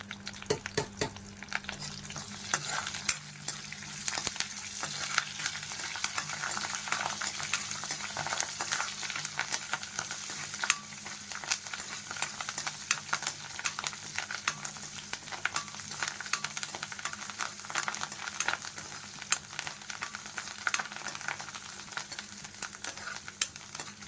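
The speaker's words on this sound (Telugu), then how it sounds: "స్టవ్ వెలిగించి నేను తాలింపులు వేసాను. పచ్చెనపప్పు, కరివేపాకు, ఆవాలు." Tempering spices (chana dal, curry leaves, mustard seeds) crackle and sizzle in hot oil, with steady frying hiss and scattered sharp pops and spits throughout, no voices present.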